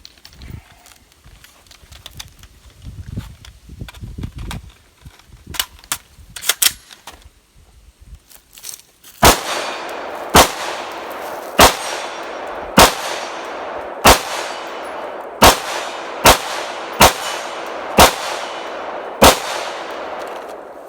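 Rifle shots at a tactical games practice event: about a dozen sharp, loud reports fire in a steady rhythm one after another, following a few earlier lighter clanks and some faint talk in the background.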